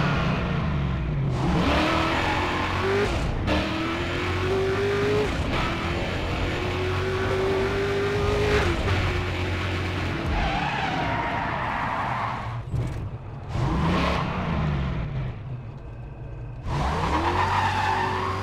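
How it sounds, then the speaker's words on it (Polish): A turbocharged race car engine in Need For Speed World revs and drops repeatedly with rising whines between gear shifts and bursts of tire squeal, loud and continuous with no talking. "Teraz słychać tutaj turbosprężarkę"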